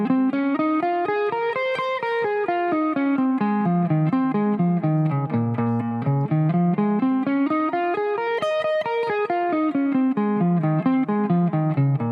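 A steady run of picked notes from a distorted electric guitar moves up and down a minor pentatonic scale at two notes per string, sweeping through several ascending and descending passes, loud and close with no voice.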